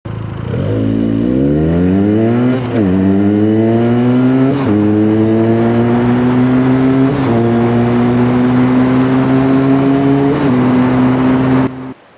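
A Benelli TNT 302s, a 300cc motorcycle, accelerates hard toward 60 mph, its engine note rising steadily through several gear changes with brief dips between shifts, loud and close throughout.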